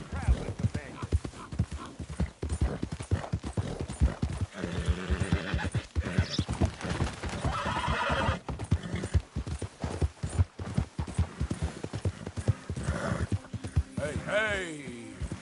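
Steady, rapid hoofbeats clip-clop throughout in the video game Red Dead Redemption 2, with occasional horse whinnies and voices talking over the galloping rhythm.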